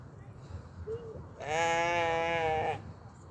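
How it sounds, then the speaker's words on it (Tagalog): A sheep or goat at a farm pen with sheep and goats being fed gives one long, loud, wavering bleat up close, preceded by a brief faint call amid low background noise. "Karnero, kambing."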